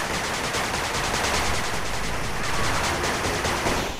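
A machine gun turret in the strategy game 8-Bit Armies, firing a dense, continuous stream of rapid shots, loud and unbroken for several seconds, with no voices.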